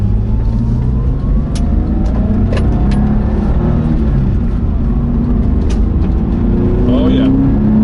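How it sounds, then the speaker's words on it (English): A Porsche 911 with 93,000 miles on it accelerates hard from inside the cabin, its engine note climbing steadily through the gears as a loud, continuous drone with rising harmonics. "hopefully at this point I can let the 911 stretch its legs a little bit"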